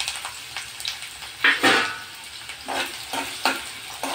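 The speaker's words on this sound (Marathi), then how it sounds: "कढईतलं तेल तापल्यानंतर त्यामध्ये आपण कांदा टाकणार आहोत" Sliced onion frying in hot oil in a kadhai, with a steady crackling sizzle and a few louder bursts of stirring and spattering, close and alone without speech.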